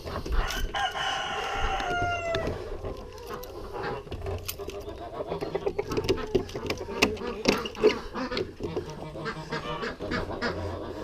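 A rooster crows near the start, then hens cluck and squawk busily throughout amid general farmyard bustle.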